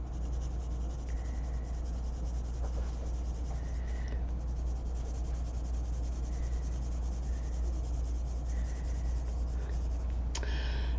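Tombow Irojiten colored pencils scratch steadily across paper in a soft, continuous rubbing stroke, close and quiet, with occasional brief squeaks and a faint tap near the end.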